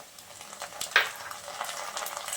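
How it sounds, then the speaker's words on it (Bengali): Tomato going into a pan of frying onions, producing a soft, continuous sizzle with a brighter crackling burst about a second in, then steady light frying. "পেঁয়াজটা কিছুক্ষণ ভেজে নেওয়ার পর আমি এখন টমেটোটা দিয়ে দিচ্ছি।"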